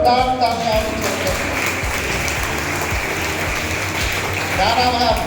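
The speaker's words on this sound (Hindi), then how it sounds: "और जोरदार तालियां दीजिए" Loud, steady applause from an audience at a Yoga Day event, a continuous dense clapping that holds for the whole stretch with some voices mixed in.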